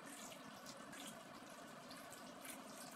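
Water runs steadily into a cooking pot holding pork, a continuous close splashing stream with no break and no voices over it.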